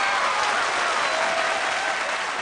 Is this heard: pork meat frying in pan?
no